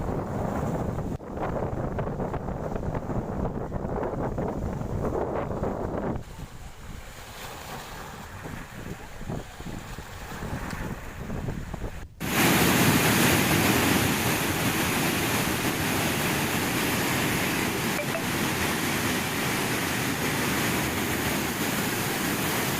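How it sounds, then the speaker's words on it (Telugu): Floodwater gushes through the ten opened gates of the Jurala reservoir dam. A softer, wind-buffeted roar gives way midway to a sudden, loud, sustained broadband rush of water that continues strongly to the end. "జూరాల 10 గేట్లను ఎత్తి కూడా నీటిని విడుదల చేస్తూ ఉన్నారు"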